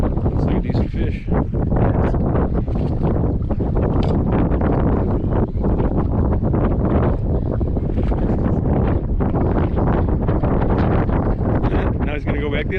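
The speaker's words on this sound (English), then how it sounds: "This would be a good test for this GoPro. See how it handles the wind." Strong wind buffets a GoPro microphone on a fishing boat at night, a loud, continuous roaring rumble with gusty fluctuations throughout, and people talk underneath it.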